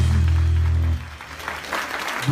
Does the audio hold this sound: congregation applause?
yes